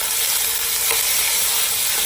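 Onion hitting a hot pan with marinated pork sets off a loud, steady sizzle that holds evenly throughout, with a faint stirring scrape near the middle.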